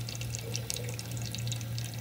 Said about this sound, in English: we're going to fill the bottle up